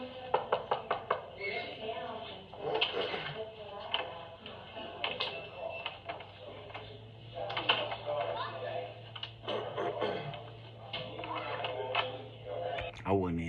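Rapid, sharp knocks on a door, a quick series at first followed by more irregular knocking, with people talking throughout.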